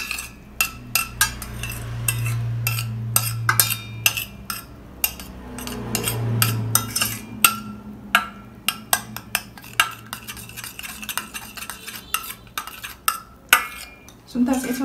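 A spoon stirs a homemade skin cream mixture with soap in a bowl, giving repeated close, light clinks and scrapes against the bowl in an uneven rhythm, with a low hum underneath.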